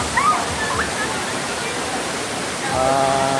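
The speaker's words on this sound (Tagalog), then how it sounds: "So ito na yung Balagbag Falls guys sa Infanta Quezon." Balagbag Falls in Infanta, Quezon, pours as a steady broadband roar of rushing water, constant and close throughout, with a voice talking over it.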